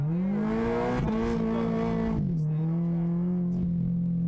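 A drift car in first gear screams at high revs on a clutch kick, its engine loud and close with a steady droning pitch that dips, settles and holds, alongside faint tire noise.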